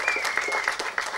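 Audience applause at a film press meet in a hall, a dense patter of many hands clapping steadily, moderately close, with a faint tone beneath.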